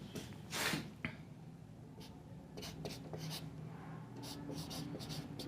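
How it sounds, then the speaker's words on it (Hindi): Pen or marker writing on a board or page during a Hindi-language English grammar lesson, soft scratchy strokes coming in short bursts close by, with a low background hum and a brief breathy sound near the start. "चलिए लिख देता हूं।"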